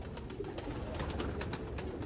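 Sialkoti roof pigeons coo faintly on a rooftop loft, soft low murmurs buried in a steady wash of background noise.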